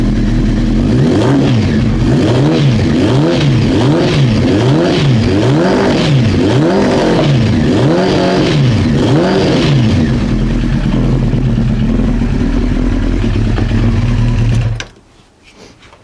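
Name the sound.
Honda CBR 900 Fireblade motorcycle engine running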